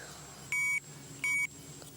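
An electronic fishing bite alarm gives two loud beeps, each about a quarter second long, separated by a short pause, over a faint steady background hiss, during winter river pike fishing.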